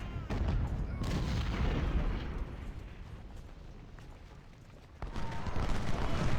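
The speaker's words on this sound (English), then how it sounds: "let's start trading fire with Hayes again" Gunfire trading with skirmishers in a Civil War battle video game, a dense rumble of musket and artillery volleys, loud at first, easing off, then a fresh burst near the end, with a voice talking over it.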